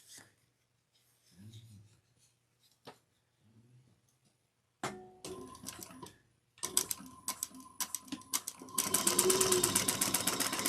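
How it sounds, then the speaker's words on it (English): A sewing machine stitches a bag seam at a 3/8-inch allowance. Quiet rustles and handling come first, then a run of fast, close mechanical stitching that grows louder and busier toward the end. "we're going to sew these together at a 3/8 of an inch seam"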